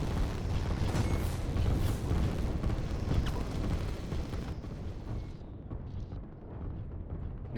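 Bombers and helicopters strike in a real-time strategy game, heard as a dense rumble of rapid explosions and booming impacts layered over one another, thinning toward the end; no talk.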